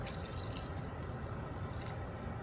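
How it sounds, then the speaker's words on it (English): Water is poured into a pot of simmering homemade vegetable soup, giving a soft, continuous splashing and trickling that stays quiet and close throughout. "So now this has simmered, it's getting a little bit soft, so I'm gonna add the rest of my water"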